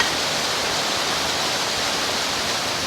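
Water from a single ground paddle at a narrowboat canal lock pours in as a steady, loud, broadband roar with no breaks, close by and unaccompanied by voices.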